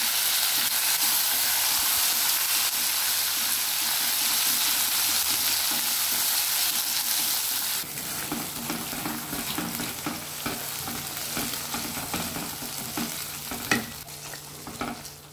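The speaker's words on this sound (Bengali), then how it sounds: "আমি এখন জিরে, গোলমরিচ, গরম মশলা ফোড়ন দিয়ে দিলাম। দিয়ে আমি এই পেস্টটা দিয়ে দিচ্ছি।" Spice paste drops into hot oil tempered with cumin, black pepper and garam masala, and a steady bright sizzle gives way to a louder, crackling fry with scraping stirs, close and continuous.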